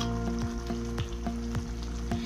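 Garlic paste sizzling steadily in hot oil for a chicken curry, with a spoon stirring and scraping the pan in a regular rhythm over the frying.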